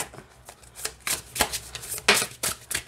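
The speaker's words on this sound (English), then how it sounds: "I just wanted you guys to see the different ways that you can shuffle" Tarot cards from a flexible deck being shuffled by hand, a series of quick riffling and snapping bursts in an uneven rhythm, close and clear with no talking.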